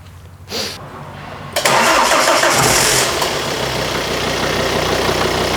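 A Volvo V70 D5 car, just repaired for an oil leak, cranks after a brief knock and catches, then settles into a loud, steady, close-up engine idle that runs without a break.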